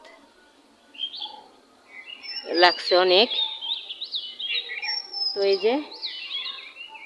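Morning birds chirp and twitter from a rooftop on a cold winter dawn, short high calls scattered through the clip while someone talks over them.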